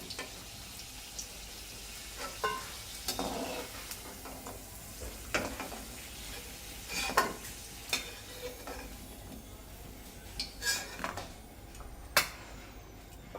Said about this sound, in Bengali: ওই তেলেই কাঁকড়াগুলো হালকা করে ভেজে নেব